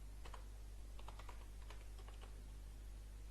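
Quick keystrokes tap on a computer keyboard in a short burst of irregular clicks, faint and close over a steady low electrical hum.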